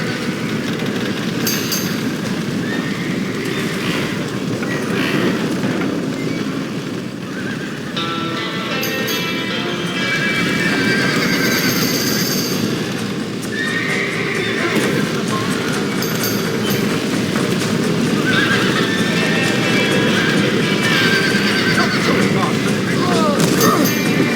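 Horses whinny and neigh repeatedly amid busy clip-clopping hooves and chaotic background noise of a barn fire in the video game Red Dead Redemption, loud and continuous throughout.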